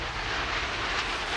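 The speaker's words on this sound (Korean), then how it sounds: "T-50도 푸른 하늘을 멋지게 날아오릅니다." A T-50 jet trainer flying overhead at a Korean defense air display, a loud, steady broadband engine roar that holds evenly for the whole moment, with no talking.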